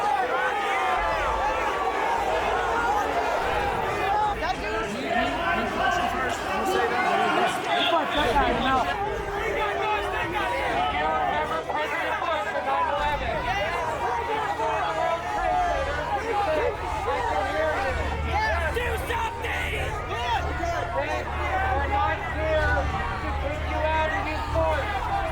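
A large crowd of protesters outside the US Capitol keeps up a dense, continuous babble of many voices, with shouts rising above it and a single voice addressing the crowd near the start.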